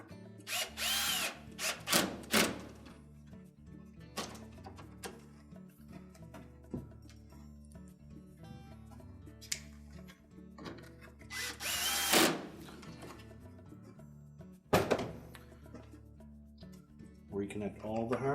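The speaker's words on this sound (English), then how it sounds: "Reinstall the screws." Power drill driving screws back into a Whirlpool washer door latch assembly: several short, loud whirring bursts separated by quiet pauses, close up, with a voice talking in between.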